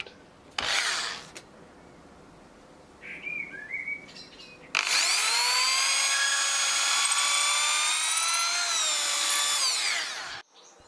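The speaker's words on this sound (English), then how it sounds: "Now drill a hole just below the top of the centre of the shaft." A power drill bores a hole into a wooden shaft for a garden line marker, giving one loud, steady whine that lasts several seconds, preceded by a short burst and light handling noises.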